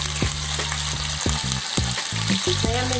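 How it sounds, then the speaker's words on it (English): Salmon fillets sear in a hot pan, a loud, steady sizzle with rhythmic bursts of spatter and crackle, close and continuous with no voices. "We're going to take now our salmon. I'm going to sear it"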